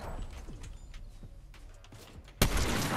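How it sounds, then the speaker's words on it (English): Distant gunfire in the video game Fortnite, a few muffled pops and cracks scattered over quiet ambience, ending in a sharp louder burst. "there's gunfire in that direction."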